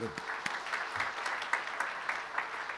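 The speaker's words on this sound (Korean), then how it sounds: "박수 한번 드리겠습니다." Church congregation applauding during an annual general assembly, a soft, steady patter of many hands clapping at a distance for under three seconds, with a brief voice at the start.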